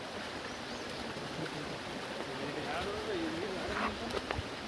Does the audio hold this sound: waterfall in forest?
yes